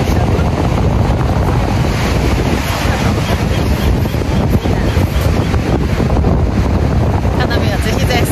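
Ocean surf rolls onto a San Diego beach, a loud, continuous wash of breaking waves heavily buffeted by wind rumbling across the microphone.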